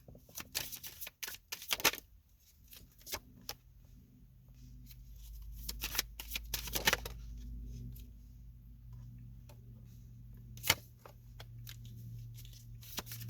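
A deck of tarot cards is shuffled by hand in quiet bursts of riffling and sharp slaps, broken by pauses, over a low steady hum.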